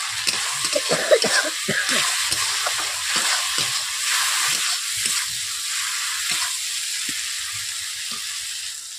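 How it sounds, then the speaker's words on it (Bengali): Spices fry and are stirred in a pan for a rohu fish head curry with potato and pointed gourd, a continuous close sizzle broken by repeated scraping strokes of a spatula at an uneven rhythm, with no speech. "এই মশলাগুলোকে ভালোভাবে কষিয়ে নিচ্ছি 2 থেকে 3 মিনিট।"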